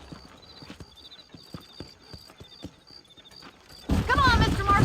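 Horses' hooves clip-clop in a rhythmic, fairly close trot in the Western video game Red Dead Redemption, with a tinkling tone above, before loud game dialogue and music take over near the end.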